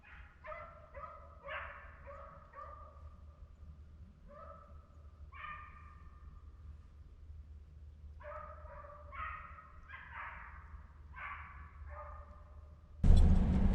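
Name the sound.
hunting dogs barking and baying during deer dog drive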